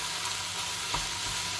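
Minced meat frying in a hot pan while being stirred for spaghetti bolognese, a steady, close, hissing sizzle with no talk.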